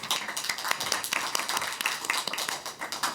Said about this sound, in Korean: 이제 박수가 많이 나오는군요.